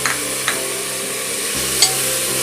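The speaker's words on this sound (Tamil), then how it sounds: "நல்லா வதக்கி விட்டுடலாம்." Steady sizzle of tomatoes sautéing in a pan, with a few soft clinks of a spoon stirring partway through.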